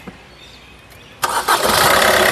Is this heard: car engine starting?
yes